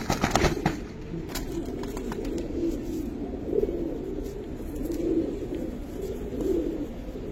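Several pigeons coo steadily at close range, a low rolling murmur with soft swells, a kept Giribaz pigeon among them.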